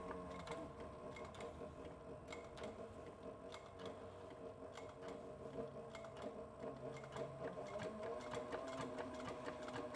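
A sewing machine stitches a leather satchel steadily with a rapid mechanical whirr and clicking, continuous and fairly close, with no talking.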